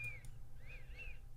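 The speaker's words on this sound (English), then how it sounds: "I was just breathing and it started whistling" A faint, thin whistling from breathing, rising and falling in a few short wavering tones over a low steady background hum.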